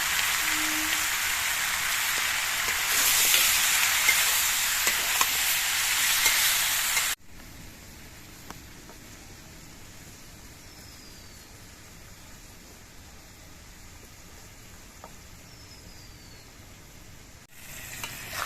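Ridge gourd and prawns stirred in a hot pan give a loud, steady sizzle with scraping for several seconds, then a much quieter, low simmering hiss with faint occasional clinks.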